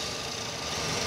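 Idling engine of a Toyota Vios Type G second-generation facelift sedan, a smooth, steady low hum with a faint even vibration, close and continuous with no talk.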